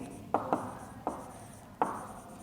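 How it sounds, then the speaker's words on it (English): Chalk or marker strokes on a classroom board: four short, sharp taps and scratches spaced irregularly over quiet room tone, close and moderately soft. "Now again I am going to write."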